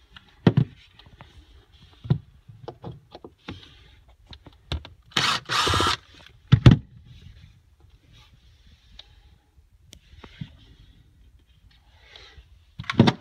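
A power drill backs screws out of snaps in boat flooring on a Malibu VLX, several short whirring bursts with pauses between, one longer loud run in the middle, close up.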